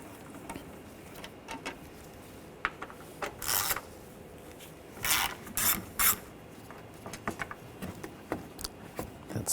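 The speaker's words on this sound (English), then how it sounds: "Using a 8mm socket, take these screws out." Ratchet with an 8mm socket backing out screws on a 2013-2019 Ford Escape during front strut work: scattered short clicking bursts with a few louder ratcheting passes, close by and with no talk.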